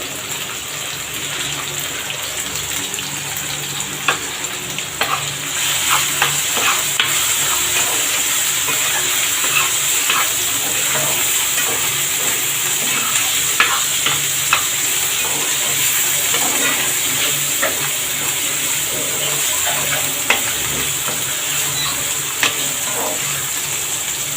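Tomatoes frying with a pinch of turmeric in a pan over a stove, giving a steady, close hiss and sizzle throughout with scattered small pops and crackles, no voices.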